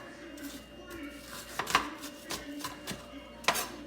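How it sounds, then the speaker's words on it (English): A knife rough-chops onion into big chunks on a board, a few irregular sharp thuds spaced apart, close and fairly quiet, with faint background noise. "So just a rough chop."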